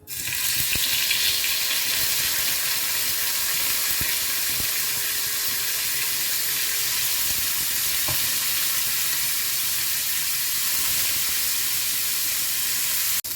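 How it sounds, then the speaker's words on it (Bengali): Pieces of rohu fish fry in hot oil in a frying pan over a gas flame, giving a loud, steady, continuous sizzle close up with a few faint clicks. "তেল গরম হয়ে গেছে, মাছগুলো ভেজে নেব।"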